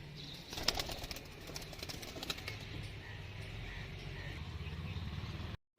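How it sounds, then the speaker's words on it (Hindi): A Rampuri pigeon in breeding condition flaps its large wings in a short flurry of soft beats early on, followed by quieter rustling and faint background noise that ends abruptly. "वो कबूतर है रामपुरी।"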